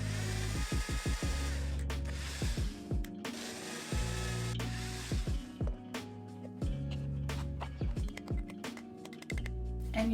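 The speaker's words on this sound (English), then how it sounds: "I'm just drilling on those little dots that we made" A power drill bores small holes into wood for homemade boho wall art, its motor whining in repeated short bursts that rise and fall in pitch, close by and fairly quiet.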